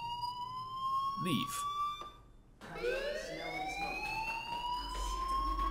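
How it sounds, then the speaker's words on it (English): School fire alarm sounding in the video game Life Is Strange, a continuous electronic tone with rising sweeps that cuts out briefly and then resumes steadily, with a short spoken word near the start. "Do you hear that fire alarm? That means you should be outside."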